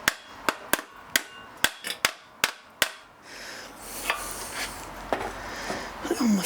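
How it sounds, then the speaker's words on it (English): A decent-sized hammer strikes a metal mower deck on a Kawasaki mower about ten times in a fast, uneven series of sharp clanks, close by, followed by quieter rustling and handling. "Decent sized hammer."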